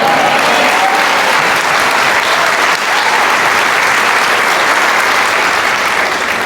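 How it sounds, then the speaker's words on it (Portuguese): Church congregation applauding with their hands, a loud, dense, continuous clapping that holds steady throughout. "já que você aplaudiu com as suas mãos"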